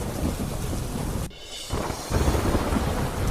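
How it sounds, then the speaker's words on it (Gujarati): Heavy rain pours in a steady roar over open ground while strong wind gusts against the microphone, a rumble of thunder rising briefly before the downpour continues loud and unbroken. "સમગ્ર પંથકમાં ભારે પવન સાથે પડ્યો ધોધમાર વરસાદ"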